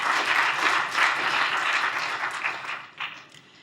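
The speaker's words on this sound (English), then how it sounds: "So with that, let's give Dr. Amini a round more applause." Lecture audience at a machine learning in drug discovery talk gives a short burst of steady applause, fairly soft and distant, tapering off after a few seconds.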